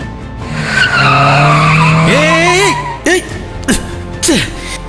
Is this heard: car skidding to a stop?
yes